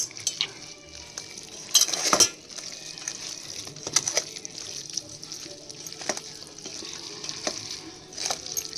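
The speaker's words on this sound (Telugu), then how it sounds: "కొంచెం చికెన్ ఉడికేసిన వాటర్ వేసి కలుపుతా" A spoon stirs a chicken curry in a pan after chicken stock water is poured in, with intermittent scraping clinks and a soft bubbling wash throughout.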